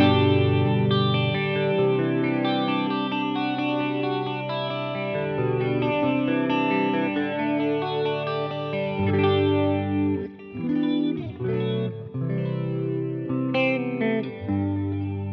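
An electric guitar runs through a Walrus Polychrome Flanger pedal set low rate, wide sweep and no feedback, giving a lush chorus-like shimmer over sustained chords and melodic notes, played alone without voices.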